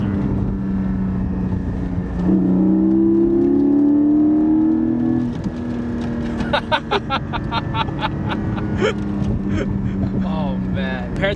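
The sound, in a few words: Porsche Cayman 718 GT4 engine accelerating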